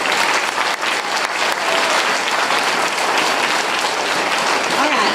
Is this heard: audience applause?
yes